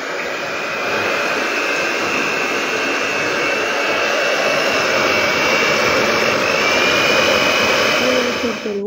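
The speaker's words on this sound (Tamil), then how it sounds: "இந்த கன்சிஸ்டன்சி வர்றது வரைக்கும் பீட் பண்ணிகிட்டே இருக்கணும்." An electric beater whirs steadily and loudly, close by, while beating eggs for a soft, fluffy cake batter, a continuous motor drone that slows near the end, with no talk over it.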